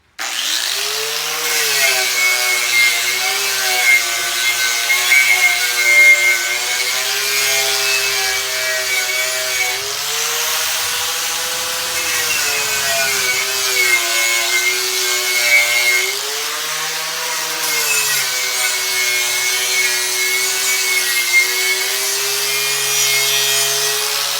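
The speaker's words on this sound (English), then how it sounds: "The electricity powers the turntable for spinning." An electric tire changer turntable spins while a tire is dismounted, making a loud, steady motor drone with a wavering pitch and rasping friction that continue throughout.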